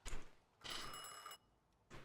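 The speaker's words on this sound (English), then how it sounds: "Answer the phone." An old-style telephone bell rings in The Thaumaturge, set in early twentieth-century Warsaw: two bright, buzzing rings separated by a short gap, heard alone at moderate volume.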